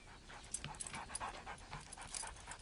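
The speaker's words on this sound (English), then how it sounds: "what a cute little dog" A small dog pants rapidly and softly at close range, a quick, steady run of short breaths with no voices over it.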